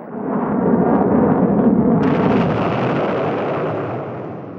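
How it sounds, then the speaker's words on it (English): A Stinger shoulder-fired missile hits its target during a field trial, giving a deep, rumbling blast roar that swells, sharpens partway through, then fades slowly; loud and sustained, with no voices. "Field trials like this looked impressive as the shoulder-fired missile locked onto its target."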